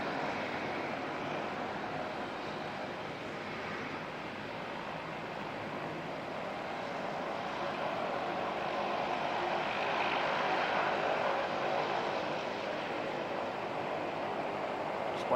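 A United airliner at Auckland Airport in foggy weather gives off a steady, distant engine roar that swells gradually toward the middle, with no voices.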